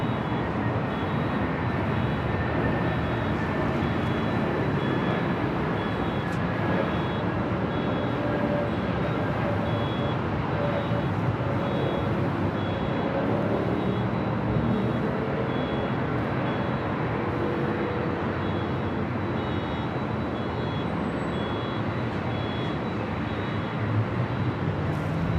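A Delta Airbus A321neo arriving on runway 24 right at LAX, heard as a steady, loud broadband jet roar that holds for the whole stretch, with the engine noise filling the air continuously and no talk.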